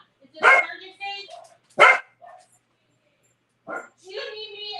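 A dog barks in short, loud bursts, three or four separated yelps with pauses between, close by and mixed with a voice.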